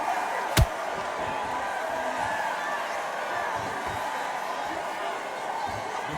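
A boxing arena crowd murmurs and buzzes steadily from a distance, with one sharp slam-like thud near the start.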